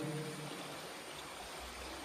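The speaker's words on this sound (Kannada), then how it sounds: "ನೀರಿನ ಜುಳು ಜುಳು ಶಬ್ದ ಎಲ್ಲವನ್ನು ಕೇಳಿಸಿಕೊಳ್ಳುತ್ತಿದ್ದೇನೆ" A babbling water stream flows steadily as a soft, continuous rush, faint and even throughout the short stretch with nothing else over it.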